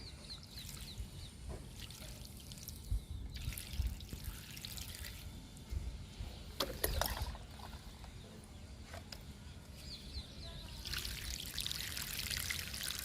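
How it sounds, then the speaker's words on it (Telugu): Water is poured onto soil in a potted marigold, trickling and dripping in bursts with faint splashes, fairly quiet, and no talking. "ఇప్పుడు పొగడబంతికి వాటర్ ఇచ్చేద్దాము."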